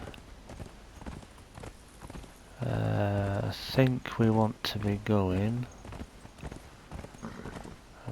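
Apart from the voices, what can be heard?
horse hooves clip-clopping in the video game Age of Sorcery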